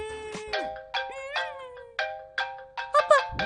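A phone rings with a melodic electronic tone in repeated bursts, loud and close, each burst a cluster of chiming notes with no talking.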